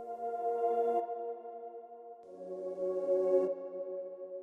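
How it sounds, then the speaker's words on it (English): A sustained synth pad swells up, cuts off, then swells in again for a second phrase, playing alone with no voices. "So I made the pad kind of go in and out."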